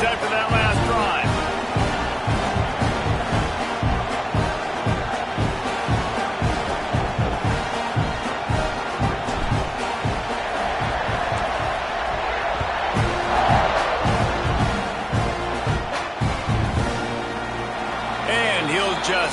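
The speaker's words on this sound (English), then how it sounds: "this crowd is feeling themselves after that last drive" A football stadium crowd roars in a continuous, dense wash of cheering with rhythmic swells and whoops, loud and distant-sounding, while a commentator talks over it.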